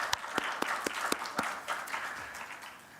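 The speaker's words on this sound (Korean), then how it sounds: "우리 박수로 환영하도록 하겠습니다." A church congregation applauds to welcome new members, a short, moderately loud run of sharp, spaced claps that thins out and fades into a softer patter.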